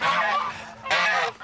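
Geese honking in two loud bursts of overlapping calls, with a short lull between them, close by and with no talk.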